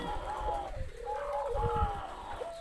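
A male spotted dove coos in soft, rolling notes, a short rhythmic call set against a low background hum, moderately close and fairly quiet.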